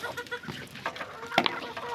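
Domestic poultry clucking in a home setting, a few short calls in a quick irregular run with one sharper call near the end, close and moderately loud with a light background murmur.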